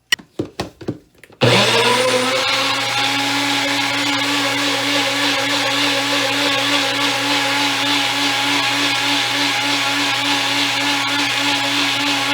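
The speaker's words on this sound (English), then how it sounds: "And now we are ready to blend." After a few short clicks, a blender starts up and runs loud and steady on watermelon pieces, a constant motor roar with a slight pulsing churn throughout.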